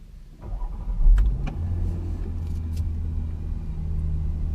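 A Range Rover SUV engine cranks and catches, then settles into a steady low idle rumble. It is close and fairly loud, with no talking.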